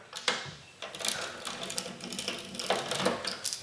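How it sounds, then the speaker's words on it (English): Small screws being unscrewed from the cooling fan of a PS3 Slim console: close, quick ratcheting clicks and faint metallic ticks from a screwdriver, repeating in short bursts. "you're gonna have to take these screws out of the fan"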